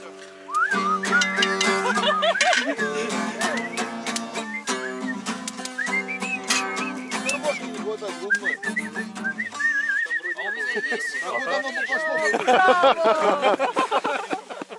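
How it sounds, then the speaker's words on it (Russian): Loud, melodic whistling carries a lively tune for the whole stretch, with trills and sliding notes and no talking, outdoors on a May rafting trip down the Usva River in the Urals. "А теперь свист."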